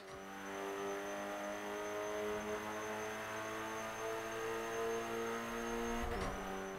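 Rally car engine in Forza 5 driving a flying lap with short shifting, a steady droning engine note held at constant revs, then a brief shift or tyre scrub near the end, with no talk.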